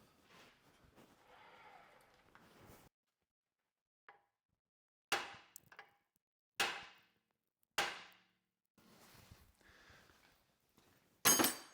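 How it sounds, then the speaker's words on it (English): A hammer strikes the steering knuckle of a GMC Acadia or Cadillac XT5 to shock loose the control arm taper: several sharp, ringing metal blows spaced apart, loud and close, between quieter shuffling handling noises. "I'm going to strike this portion of the steering knuckle with a hammer and shock it"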